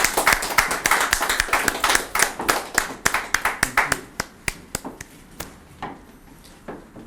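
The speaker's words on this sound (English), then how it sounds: "Ladies and gentlemen, give them a round of applause" Audience at a Sri Lankan morning TV show's 1000th-episode celebration claps after a cake-cutting, sharp individual hand claps forming a loose, uneven round that thins out toward the end.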